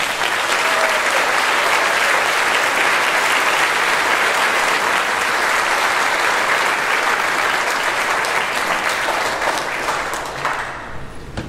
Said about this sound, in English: So will you give them another round of applause?